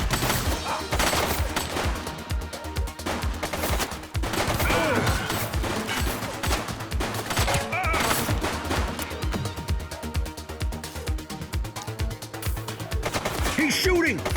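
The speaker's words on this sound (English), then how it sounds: "He's shooting!" Dense bursts of automatic gunfire and rapid shots crackle loud and near during a police shootout with a suspect in The Precinct, mixed with shouted voices.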